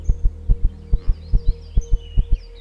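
Heartbeat in the survival game Empyrion Galactic Survival after stamina runs out: steady doubled thumps, close and loud, repeating about six times over a low hum with faint high chirps above.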